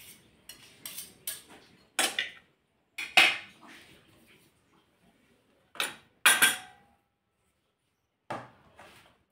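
Cooked puran, a lentil filling, being mashed through a metal sieve: irregular metallic scrapes and clinks in short bursts separated by quiet pauses, close and fairly loud.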